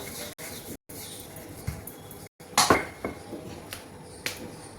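A wooden rolling pin gently works a thick dal-stuffed flatbread dough, giving a few soft knocks and brief clattering taps over a quiet kitchen background, with short gaps of silence.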